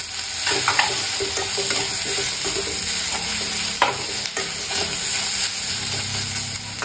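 Grated coconut is stirred into a frying, partly mashed tomato mixture in a pan for chicken chops, with a continuous sizzle and hiss overlaid by repeated scraping and clinking spoon strokes.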